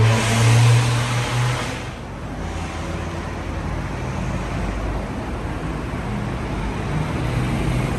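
A 2021 Isuzu FC truck arrives with its engine running, a steady mid-pitched rumble that swells briefly near the start and then holds as a continuous drone, close and fairly loud with road noise.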